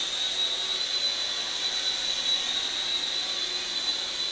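A JH Gunship JunHeng J283 RC helicopter flying backwards gives off a steady, high-pitched electric motor whine that stays even throughout, with no talking.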